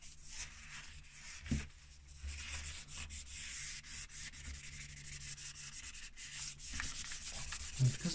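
Hand sanding of varnish on wooden trim from a Jaguar XJ40, using 180 grade paper: a steady, close scratchy rubbing that runs continuously with slight strokes and no talk.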